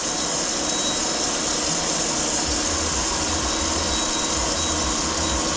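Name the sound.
crankshaft grinder grinding Triumph TR2 crank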